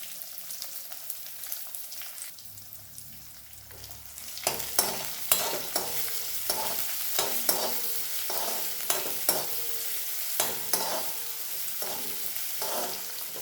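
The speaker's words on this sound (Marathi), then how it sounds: "कांदा चांगला परतूया आपण." Onion being sautéed and stirred in a pan for a dry Maharashtrian cluster bean stir-fry: a steady sizzle, quieter at first, swells after a few seconds, with regular spatula scrapes and knocks repeating throughout, close and alone.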